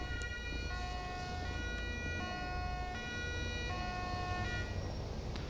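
A new Amsterdam-style ambulance siren in GTA 5 LSPDFR alternates between two pitched tones in a regular hi-lo pattern, cycling about every second and a half over a steady low rumble of road noise.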